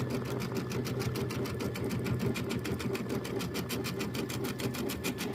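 A sewing machine runs steadily, stitching quilt squares with a fast, even mechanical rhythm at close range, loud and continuous throughout with no talk over it.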